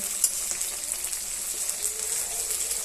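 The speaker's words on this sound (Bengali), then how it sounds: "মাছটা ভাজা হচ্ছে" Fish fries in hot oil in a wok, a continuous close hissing sizzle with faint crackles and no voices.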